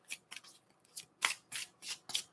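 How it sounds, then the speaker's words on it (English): A deck of tarot cards is shuffled by hand in a quiet room, making quick papery riffles and snaps in short bursts, about seven close, crisp strokes in a row. "I'll give it 3 more shuffles."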